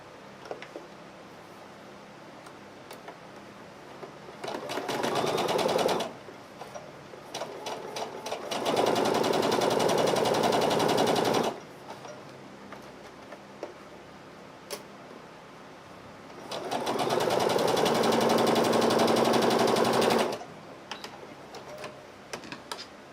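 Sewing machine stitching fabric in a quilt-style project, three sustained runs of steady, fairly loud mechanical whirring separated by quieter pauses with small handling clicks.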